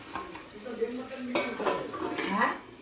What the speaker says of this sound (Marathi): चला आता झाकण मारूया.